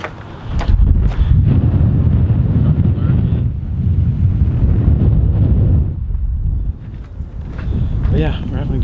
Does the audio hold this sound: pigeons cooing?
no